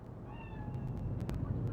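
A cat meows in the game Cyberpunk 2077, one drawn-out meow followed by a shorter one, fairly faint over a low background hum with a few soft clicks, no talk.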